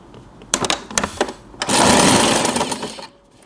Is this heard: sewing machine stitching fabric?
yes